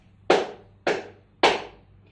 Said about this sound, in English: The Palma Sorda, sorda literally means deaf, so it's the soft muted clapping